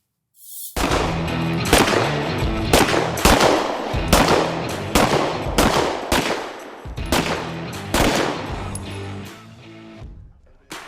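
Gunshots ring out at a shooting range, about a dozen loud, sharp reports fired in a steady, evenly spaced sequence, close and alone, each with a short echoing tail.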